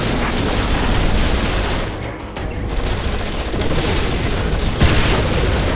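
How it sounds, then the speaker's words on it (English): Heavy gunfire and explosions from the Anomaly 2 video game form a dense, loud barrage of booms and bursts, with one brief lull before it swells again. "Taking heavy fire."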